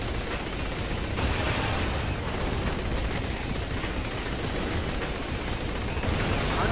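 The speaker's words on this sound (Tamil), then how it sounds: "நான் ஷூட் பண்ணிகிட்டே இருக்கேன் வெடிக்கவே மாட்டேன் இப்போ தான் வெடிச்சிருக்கு" Dense, steady gunfire rattles on in Saints Row 3, a continuous wash of rapid shots and blasts with no pauses, loud and close throughout.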